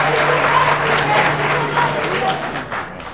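Audience at a Haitian presidential debate applauding, a dense, steady patter of many hands that fades slightly toward the end, mixed with voices.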